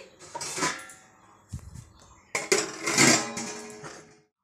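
A metal lid is set onto a pot of green mango simmering for a sweet preserve, with a few sharp clanks and clinks of metal on metal, close and moderately loud, and then silence.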